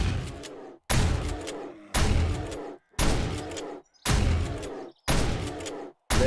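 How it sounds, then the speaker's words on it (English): Pump shotgun firing in the video game 7 Days To Die: six loud, close, booming blasts spaced about a second apart, each with a short decaying tail, with a brief silent gap before the next shot. "But next, we're moving right onto the pump shotgun"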